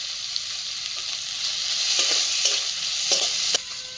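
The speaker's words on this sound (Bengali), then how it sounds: "দেখুন সব কিছু একসঙ্গে নাড়াচাড়া করে নিয়েছি এরকম হালকা হালকা নাড়াচাড়া করে নিতে হবে" Onion, garlic and green chili stir-fry in a pan with a steady sizzle, and a few soft spatula scrapes come through near the end.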